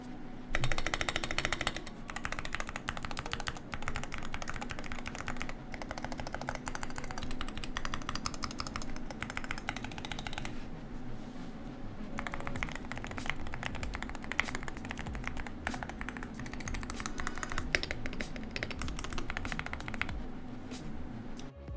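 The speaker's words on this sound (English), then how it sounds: "So as you guys can tell from the sound test there, the original Polar 65 is a bit poppier, it's a little bit snappier." Someone types fast on a Polar 65 mechanical keyboard with Gateron switches, producing a dense, continuous clatter of poppy, snappy keystrokes. A short pause comes partway through, and no one speaks.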